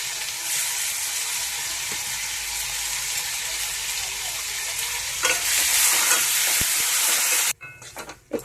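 Puti fish curry with spice paste sautés in a pan, a steady sizzling hiss with stirring scrapes that grows busier before dropping away near the end.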